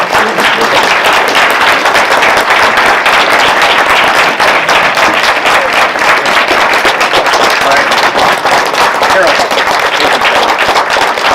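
A packed audience at a congressional district candidates forum breaks into dense, steady applause that stays loud and unbroken for about eleven seconds.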